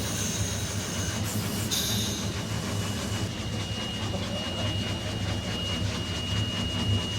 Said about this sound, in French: il a procédé au freinage énergique de son train afin de casser sa vitesse